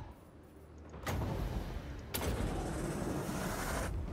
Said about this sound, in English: Boom! Explosion.